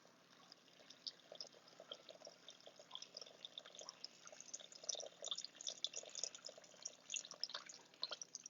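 Warm water poured into gluten-free, dairy-free pizza flour sitting on kitchen scales, a faint, steady trickling splash with light irregular drips that build slightly toward the end.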